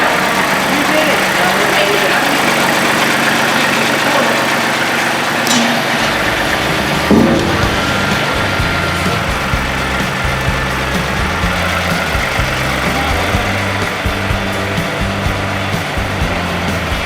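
A John Deere 2038R compact tractor engine runs steadily up close at a loud, even idle, with people talking over it throughout.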